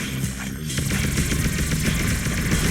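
Rapid, continuous automatic rifle fire in the video game Alien Shooter 2 rattles without pause, dense and loud, with a brief dip near the start.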